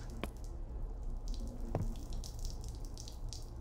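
A game character urinating in a horror video game: a steady liquid trickle with drips and splashes, moderately loud, running continuously without talk.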